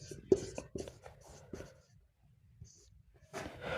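Chalk or marker scratches across a board in a classroom geography lesson. The strokes come as short uneven taps and scrapes with pauses between them, and a bit of breathing or movement closes the clip.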